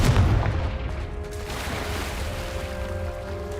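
A Confringo fire spell blast from Hogwarts Legacy bursts with a loud boom at the start, then settles into a sustained rumbling, crackling tail that fades slowly and steadily.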